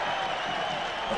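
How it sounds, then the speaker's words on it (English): At a mid-1990s rugby league match, the stadium crowd lets out a broad, steady swell of ironic cheering and clapping that fills the whole moment. "Ironical cheers from the crowd."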